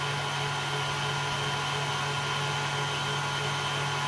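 An electric whisk beats meringue as sugar is tipped in slowly, giving a steady, even motor whir with a constant pitched hum and no breaks.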